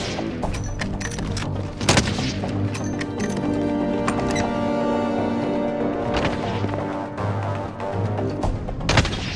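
Gunfire crackles through a Call of Duty: Modern Warfare match in sharp, scattered reports, some close and loud, others more distant. The shots are spread unevenly over a steady backdrop of game ambience.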